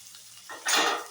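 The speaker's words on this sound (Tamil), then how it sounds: "சட்டியில் வந்து நான் முதல்ல பூண்டு போட்டுக்கிறேன்" Garlic dropped into a hot pan flares into a loud, bright sizzle after a moment of quiet. It is close by and heard with no talk over it.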